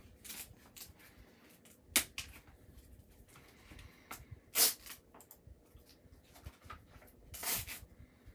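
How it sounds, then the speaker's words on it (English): Pattern heat transfer vinyl is peeled away from its backing during weeding, giving soft papery scratches and rubbing with a few sharper crackling rips, quiet and close with gaps between. "I just kind of find a part on one of the lines, cut through it, and then I pull away"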